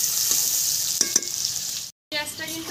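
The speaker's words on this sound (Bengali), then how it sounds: "পেঁয়াজটা একটু লাল লাল করে ভেজে নেব।" Chopped onion fries in white oil with a steady close hiss, and a few soft stirring knocks break in near the start. The sound cuts out briefly, then returns with a crackling sizzle.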